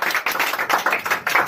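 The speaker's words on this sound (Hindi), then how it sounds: "एक बार जोरदार ताली शिक्षक दिवस के अवसर पर सर के लिए" An audience at a Teacher's Day celebration in a coaching class claps in rhythmic bursts for their teacher, close and lively, pulsing in quick repeated waves with no talking.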